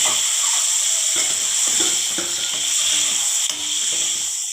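Whole boiled eggs fry in hot oil with turmeric in a kadai, giving a steady loud sizzle with a few soft clicks of the eggs shifting in the pan.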